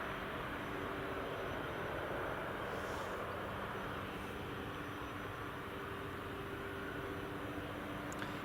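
A light aircraft taxiing at Edinburgh Airport on runway 24 in the evening, heard as a steady, broad engine rumble that stays fairly even throughout, with no voices.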